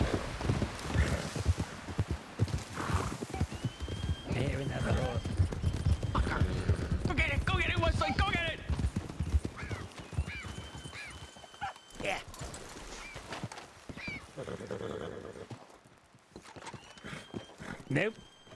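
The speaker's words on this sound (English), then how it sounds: "I hear another horse." Video game horse hooves clip-clop along with snorts and a whinny, while a person talks over the sounds throughout.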